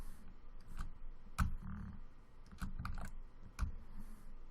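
Computer keys are pressed during Photoshop work, a quiet series of close, crisp clicks in an irregular rhythm, with a few louder taps standing out.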